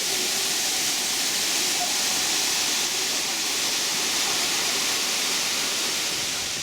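Erawan waterfall cascades in Thailand give a loud, continuous rushing roar of falling water, steady and close throughout, with no pauses.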